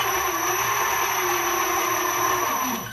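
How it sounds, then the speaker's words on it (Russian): A remote-controlled tracked model tank drives forward with both of its electric motors turning, giving a steady, continuous motor whine with a mid-pitched hum that holds level throughout and fades slightly at the end. "Сейчас модель едет, оба мотора крутятся вперед."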